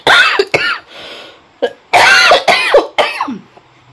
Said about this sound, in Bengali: প্রচণ্ড কাশি